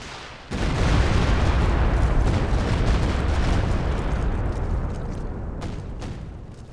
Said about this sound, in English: Here comes the rocket barrage there.